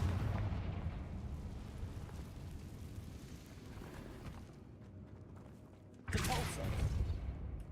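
Confringo fire spell cast in the Hogwarts Legacy video game inside an abandoned mine cave, giving a rumbling low blast and crackle that fades, then a sudden sharp burst near the end; faint and fairly quiet overall.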